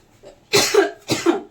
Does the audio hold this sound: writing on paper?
no